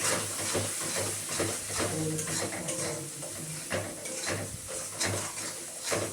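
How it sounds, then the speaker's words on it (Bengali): Masala stir-fried in a pan, with a spatula scraping and clinking against the metal over a low sizzle, in steady irregular strokes close by, with faint talk now and then. "এবার ভালোভাবে মশলাটাকে কষিয়ে নেবো"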